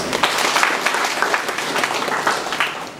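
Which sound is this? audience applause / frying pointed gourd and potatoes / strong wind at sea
audience applause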